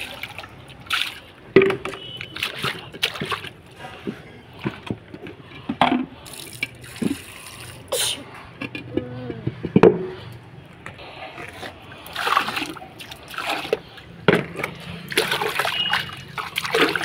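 Water splashes and runs while a water trough for chickens is scrubbed clean, with irregular sloshing, dripping and scraping bursts close by over roughly seventeen seconds.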